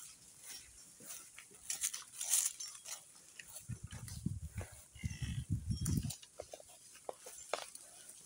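Cattle on a farm in Jambi, Indonesia, shuffle and trample over dry ground in hot weather, hooves patting irregularly with occasional low rumbles, under faint background voices outdoors.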